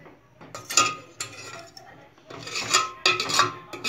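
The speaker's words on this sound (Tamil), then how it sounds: "இந்த மாதிரி மத்து வச்சு நம்ம நல்லா கடைஞ்சிக்கணும்" A wooden churner mashing cooked horse gram in a pot, giving irregular scraping, knocking and clinking strokes against the vessel, close and moderately loud in uneven bursts.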